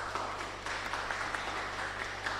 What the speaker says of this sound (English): Let's give Akingbade Evelyn a round of applause